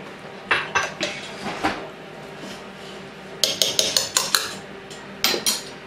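A soup spoon stirring in a pot for chicken and noodles, striking the sides in quick clinking runs of metallic taps, with brief pauses between bursts over a low background hum.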